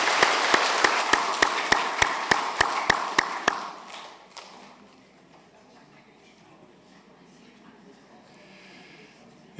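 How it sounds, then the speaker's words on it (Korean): A church congregation at a Sunday service claps in a brief, rhythmic unison, about a dozen sharp, evenly spaced claps, before falling to a quiet room hush. "우리 큰 박수로 격려하겠습니다."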